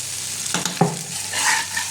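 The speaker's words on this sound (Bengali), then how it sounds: "এটা ভালো করে নেড়ে নেব" A spatula stirs vegetarian khichuri in a hot pan, two quick scrapes followed by a low sizzle that rises slightly toward the end.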